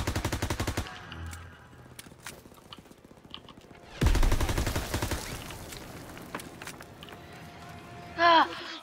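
Machine gun fire in a war video game, aimed into a house: long bursts of rapid automatic shots with pauses between them, plus a sharp burst near the end, while a voice talks over the action.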